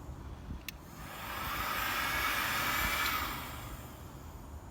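A heat gun blows on a car pinstripe on a BMW E34 540i, a faint, steady airy whoosh that swells briefly and then eases back over a low background rumble.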